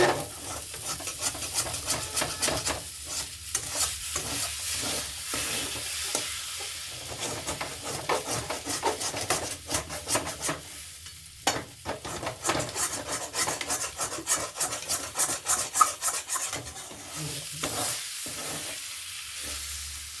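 A spoon scrapes and stirs mashed green pea curry in a pan, repeated rasping strokes with soft sizzling underneath, close and busy, uneven in rhythm, with no voices.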